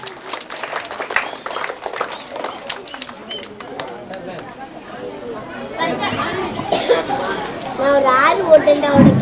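Scattered clapping from primary school students at an annual day event in Vedaranyam breaks out, then gives way to lively chatter and young voices talking over one another.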